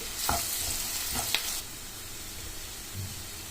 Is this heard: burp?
no